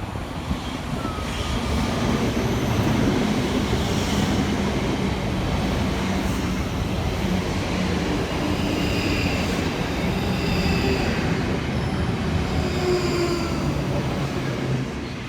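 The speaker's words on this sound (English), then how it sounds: "Arriving next into the station is 458404 and 458419, working the 1631 South Western Railway service from London Waterloo through to Reading." South Western Railway class 458 units 458404 and 458419 pull into a station on the Waterloo–Reading line, a loud, continuous rumble of wheels on track with faint squeals and hiss as the train rolls in close by.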